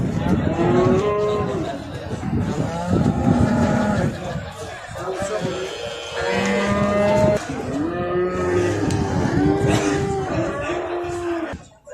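Cattle at a livestock bazaar in Maştağa moo repeatedly in long, drawn-out calls, several animals close by, over a busy market murmur with people talking.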